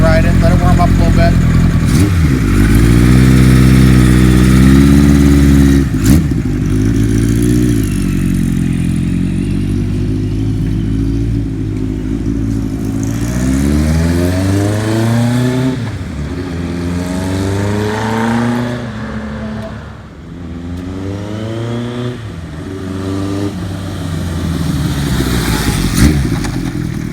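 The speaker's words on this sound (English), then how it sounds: "sometimes it's a good thing to check on your motorcycle while you're letting it warm up, especially an air-cooled bike" A 1976 Kawasaki KZ900 air-cooled motorcycle idles loudly close by while warming up, its engine rising and falling through several revs with mechanical clatter throughout.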